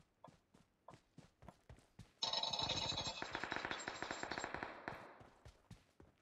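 Rapid gunfire in the mobile battle royale game PUBG Mobile: a sustained automatic burst of sharp, close shots in quick succession, framed by sparser single cracks and clicks before and after.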